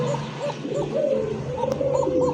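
Pigeons cooing in a loft offered for sale, including Homer and Andalusian birds, with repeated soft rolling coos from several birds overlapping steadily at close range.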